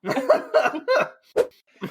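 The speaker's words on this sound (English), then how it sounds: "if you need to cough, you can cough" A person coughs several times in short bursts, close up, with a brief pause before a final cough.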